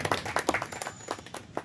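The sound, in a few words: audience applause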